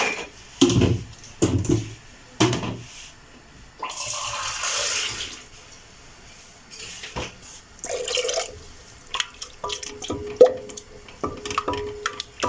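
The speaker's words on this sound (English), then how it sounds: "So I'll add about a half cup of water." About half a cup of water poured into pasta white sauce in a pan, with intermittent splashing and trickling bursts and drips, fairly close and moderate in level.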